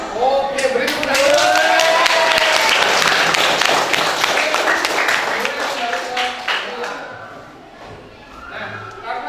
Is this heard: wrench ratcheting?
no